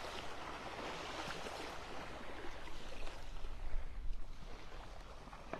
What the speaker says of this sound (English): Boat wake lapping up on the shore here.